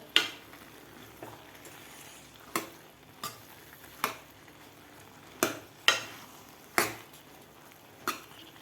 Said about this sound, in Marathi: व्यवस्थित आपल्याला हलवून हे खीर व्यवस्थित शिजवून घ्यायची आहे